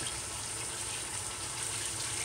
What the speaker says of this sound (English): I'm using some hot water.